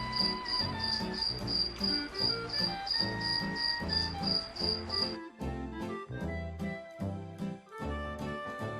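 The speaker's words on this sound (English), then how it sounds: "a little talking cricket jumped up on Pinocchio's shoulder and whispered in his ear" A cricket chirps in steady, rapid pulses for about five seconds, fairly loud over a light musical backing, then falls silent while the music carries on.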